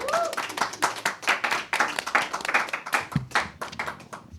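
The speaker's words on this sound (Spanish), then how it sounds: "Despedimos este segmento con un fuerte aplauso." A small group claps steadily and briskly for several seconds, the dense patter of hands rising and falling without pause.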